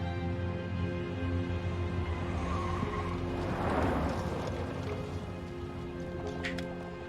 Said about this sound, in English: car calmly driving through the countryside